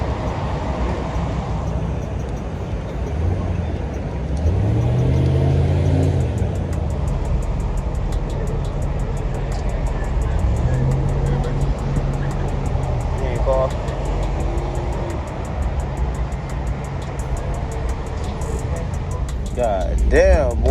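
A car on rims revs its engine at a street car meet in Chicago. Repeated rising and falling engine roars swell over a noisy crowd, with people talking and shouting throughout.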